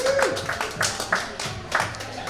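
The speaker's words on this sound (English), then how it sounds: "Y'all clap it up for that." Comedy club audience in Richmond, Virginia clapping, a few moderate bursts of claps and scattered taps at close range, with brief voices mixed in.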